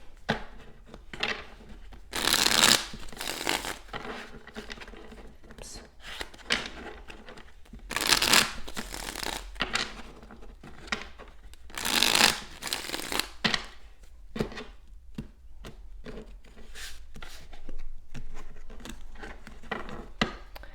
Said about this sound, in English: let me just shuffle these clarifiers